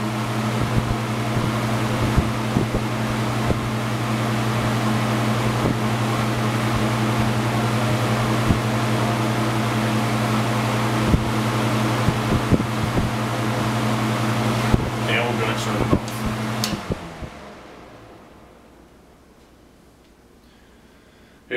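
Vintage 1950s Kisco 12-inch hassock fan, model 7000-R-20, running on high with a steady motor hum and whooshing airflow that winds down toward the end.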